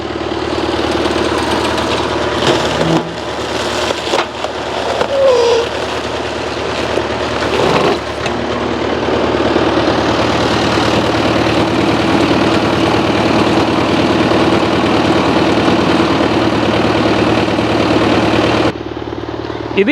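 A tractor-driven firewood cutting machine drones loudly and steadily with a few knocks and clunks early on, then the noise drops away near the end.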